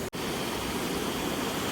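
A stream flows steadily at a riverside spot, producing a continuous, close rushing wash of water with no talk over it.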